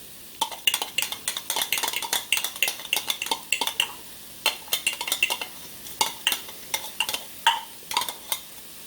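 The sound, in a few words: sauteing vegetables in a crock pot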